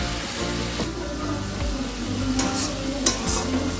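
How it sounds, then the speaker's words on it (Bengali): Spice paste sautéing over low heat, with a steady soft sizzle and occasional stirring scrapes close by, no talking. "একদম লো স্টিমে মশলাটাকে কষালাম"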